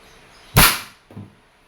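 A Crosman Benjamin Trail NP Mark II break-barrel air rifle fires once indoors at a shop, a single sharp crack followed by a short, fainter thud of the pellet striking.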